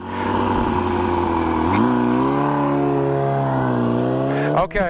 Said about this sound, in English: Give it some gas, give it some throttle.